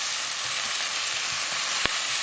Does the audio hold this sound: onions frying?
yes